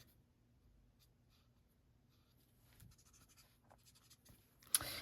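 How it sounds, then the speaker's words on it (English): A marker tip is rubbed back and forth on scrap paper to clear off ink, giving a faint, close, continuous scratchy scribbling that builds slightly louder toward the end. "you can just take like a scrap piece of paper and color it, and then eventually that ink will come off of there"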